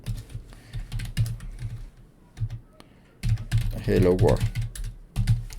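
Rapid bursts of keystrokes on a computer keyboard while Go code for an API server is typed, clattering in uneven runs with a pause in the middle, with a person talking over parts of it.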